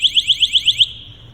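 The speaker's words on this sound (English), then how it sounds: "That's your manual pass alarm." A firefighter's SCBA manual PASS alarm shrills in seven rapid, evenly spaced high-pitched beeps, loud and close, then drops to a steady fading tone.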